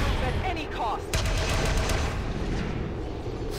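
Gunfire from the video game XCOM 2 crackles in a dense burst of rapid shots and booms, loud and layered over a rumbling game soundtrack.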